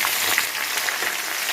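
Onion frying in a hot pan for rava kichadi gives a steady, loud broadband sizzle throughout, close up with no talking.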